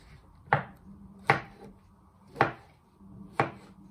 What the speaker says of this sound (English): You first chop them in half and you finally slice them into medium pieces.